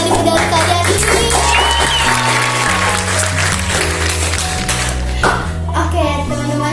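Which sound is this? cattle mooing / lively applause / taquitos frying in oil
lively applause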